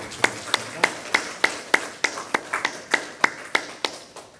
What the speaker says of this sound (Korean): 다시 한 번 더 하나님께 영광의 박수를 드리겠습니다.